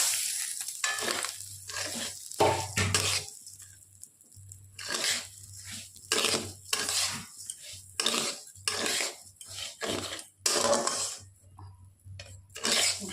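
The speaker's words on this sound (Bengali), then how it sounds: "একদম ঘি দিয়ে আমি চালটাকে ভেজে নেব" Rice fries in ghee in a pot for Bengali payesh as a spoon repeatedly scrapes and stirs, giving close, irregular metallic clinks and crunchy rustles over a faint low hum.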